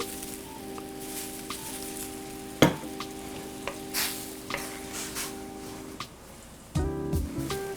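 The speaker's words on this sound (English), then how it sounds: "I'm gonna add some beer." Beer hits a hot pan for New Orleans BBQ shrimp, sizzling amid light stirring scrapes, with a sharp splash early on and a louder burst of frying near the end.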